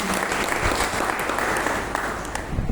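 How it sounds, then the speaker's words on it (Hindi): Loud, dense applause from a large audience fills the whole stretch, steady and continuous, at a seminar promoting an online earning system. "मैं चाहता हूं ओवरनेट सिस्टम के लिए जोरदार ताली बजाएं सब लोग मिलकर"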